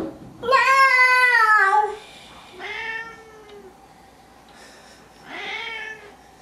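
An unhappy cat lets out three drawn-out, complaining meows close by. The first yowl is long and loud, followed by two shorter, quieter wails with pauses between them.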